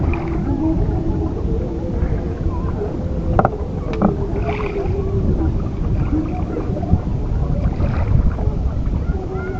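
A boat moving across Chalan Beel in Bangladesh, its steady low rumble of water and hull sliding on beneath wind noise, with a few faint knocks along the way and no voices.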